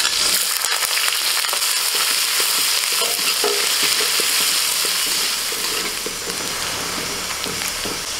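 Chopped onions with bay leaf, white cumin and dried chillies sizzle and crackle steadily in hot oil, loud and close with occasional stirring scrapes and no talk.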